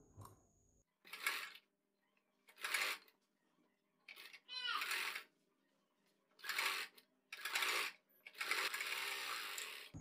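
A sewing machine stitches around a kurti sleeve in quick separate bursts of whirring, each lasting about a second, with short quiet gaps between runs and a faint voice now and then.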